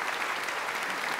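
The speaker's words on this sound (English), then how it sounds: "they deserve a big round of applause for doing this." An audience applauds steadily, a dense wash of clapping that holds at an even level throughout with no voices rising above it.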